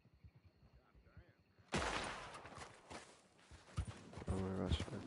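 Gunfire erupts in Red Dead Redemption 2 after a quiet stretch of hoofbeats, with a loud burst of rapid overlapping shots and echoing cracks that keeps going in waves near the player.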